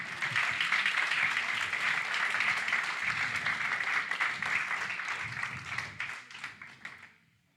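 A church congregation applauding the Lord, a sustained wash of dense clapping from many hands that holds steady for several seconds before thinning out and fading away at the end.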